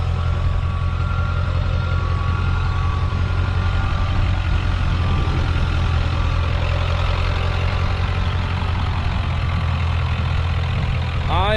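A Ford Super Duty pickup with a 7.3 Powerstroke diesel and a swapped 2005-on Super Duty axle, heard from inside while driving as a loud, steady low engine drone with a faint high whine, no talk.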